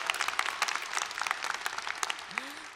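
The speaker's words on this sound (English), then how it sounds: "please applaud" A commencement audience at a 2019 winter graduation ceremony applauds graduates, dense steady clapping filling the room at moderate distance, with a brief faint voice near the end.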